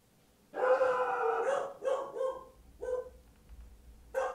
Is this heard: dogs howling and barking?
yes